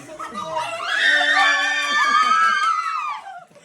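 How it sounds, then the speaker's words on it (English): A group of people scream together at a youth rally, a loud sustained chorus of high voices rising and holding for a few seconds before trailing off, with some laughter mixed in. "Let's scream."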